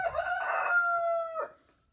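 A rooster crows once nearby, a loud, bright, drawn-out cock-a-doodle-doo lasting over a second with a rising start and a clipped fall at the end, then quiet.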